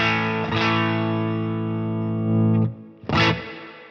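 An electric guitar plays through a cranked channel on a tube amp with EL34 or 6L6 valves. One heavily distorted chord rings out for over two seconds, then a second short distorted hit follows after a brief gap.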